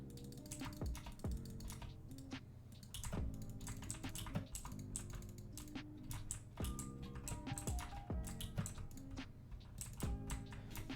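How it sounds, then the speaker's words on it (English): A loud computer keyboard typed on close up, with irregular bursts of sharp clacky keystrokes and occasional heavier key hits, no voices. "I do know that my keyboard is really loud"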